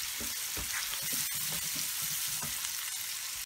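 Small prawn pieces frying in a pan while being stirred, a dense close sizzle with soft repeated thuds and scrapes of the stirring utensil.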